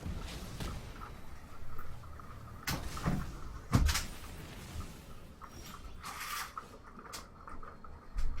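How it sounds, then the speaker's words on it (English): A window being shut indoors during a Magic: The Gathering Arena game session, giving a few scattered knocks and a thud of the frame closing, fairly close, with no talking. "Just shut the window."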